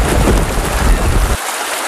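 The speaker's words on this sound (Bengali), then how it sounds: "আর বাইরে অনেক ঝড় বৃষ্টি হতে থাকে" Heavy rainstorm with a loud, dense roar of pouring rain and low rumbling like thunder, filling the air before cutting off abruptly near the end.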